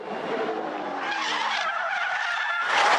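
A Supercars Championship race car skids and wipes the wall during a crash, a sustained roar of sliding tyres and engine that swells louder near the end, with no commentary over it.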